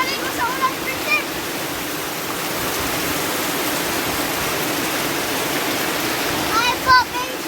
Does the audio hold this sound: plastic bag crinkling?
no